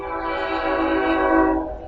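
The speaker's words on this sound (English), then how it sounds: "I hear the whistle blowing." A sustained, loud train whistle in a video game, Hearts of Iron IV, with a rich chord of tones, holding steady for nearly two seconds before fading at the end.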